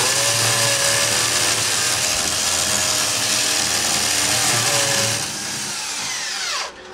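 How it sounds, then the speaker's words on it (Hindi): A Makita electric drill of about 600 to 700 watts, powered by a 1200VA solar inverter, bores loudly into a wall with a steady grinding whine. Its pitch dips under load, then the motor spins down and stops near the end. "मैं दीवार में सुराख करके कोशिश करता हूँ।"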